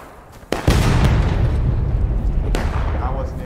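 Civil War reenactment cannon firing a shell shot, a single loud, close boom that rolls into a long, heavy rumble, with a second sharp crack later and voices speaking underneath.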